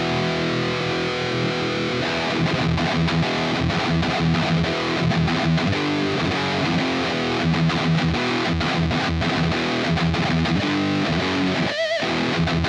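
An electric guitar plays through a Gokko overdrive pedal into a Plexi-style amplifier, giving thick, saturated chord riffs that are loud and continuous, rhythmic strums ending on a short pause and a final hit, with no voices.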